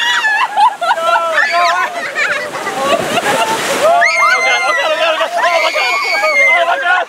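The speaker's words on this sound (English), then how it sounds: "There's so much water." Water splashing and rushing on the Grizzly River Run raft ride, a loud wash building through the middle, with excited voices and chatter from riders throughout.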